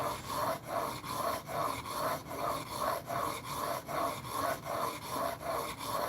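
A wide tool is sharpened on a whetstone in steady, rhythmic back-and-forth strokes, about two per second, each a loud, close gritty rasp, with no voices.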